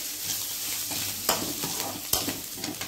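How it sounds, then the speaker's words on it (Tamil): Ground lentil paste sautéed and stirred in a pan for paruppu urundai kulambu, a steady frying hiss with a couple of sharp spoon scrapes, close and fairly loud with no talk. "சேர்த்துட்டு இதை ஒரு 2 நிமிஷம் வதக்கிக்கலாம்."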